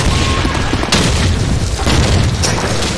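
Grenade blasts in the World War II shooter Call of Duty 2, set in Carentan: loud, dense booming bursts fill the whole stretch, with a sharp crack near the start and another partway through, no talk.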